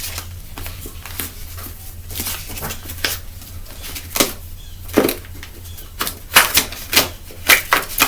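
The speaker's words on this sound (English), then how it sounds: "I butchered that shuffle." Rapid papery riffling and flapping of cards, a series of quick bursts with sharper snaps toward the end, close up and with no talking.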